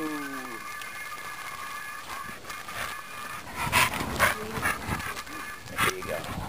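A dog pants quickly up close, with some whimpering and rustling, while a person's voice calls out intermittently.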